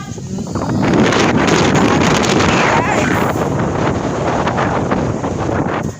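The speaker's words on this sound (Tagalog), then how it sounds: "Hala, naginuko ang hangin" Strong wind roars and buffets the microphone continuously at a foggy campsite, with a person briefly calling out over the gusts.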